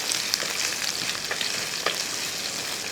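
Ginger and green chillies frying in a pan for Kerala-style idli upma, a constant close sizzle with light scraping of a stirring spoon, no talking.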